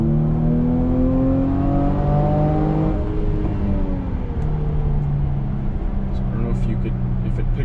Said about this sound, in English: If it picks up on the supercharger line, this car sounds great.